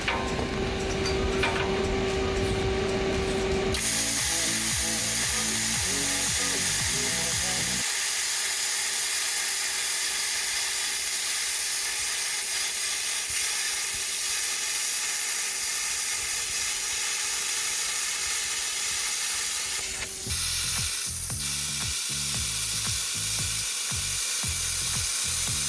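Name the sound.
plasma cutter cutting steel patch piece on F150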